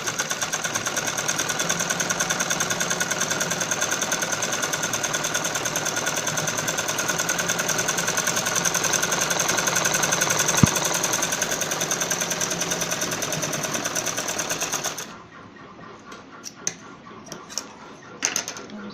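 Sewing machine stitching a reinforcing seam on a kids' romper, running in a fast, steady, close mechanical chatter for about fifteen seconds before stopping abruptly, followed by faint handling clicks.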